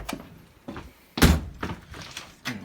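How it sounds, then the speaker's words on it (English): Someone bangs on a door with a few heavy, irregular thuds, one much louder slam in the middle and softer knocks around it, fairly close with no talk. "should be banging on the door."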